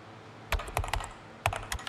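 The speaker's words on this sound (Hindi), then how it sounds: "ये टाइपिंग इफेक्ट आ गया" A typing sound effect added in the CapCut editor gives a few quick keyboard clicks in two short clusters, crisp and close, with no voices.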